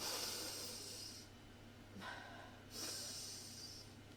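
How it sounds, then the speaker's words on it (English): A single deep inhale and breathing sounds during a guided breathing exercise, soft and close, with a brief gasp-like intake in the middle and steady low hum beneath. "Big breath now."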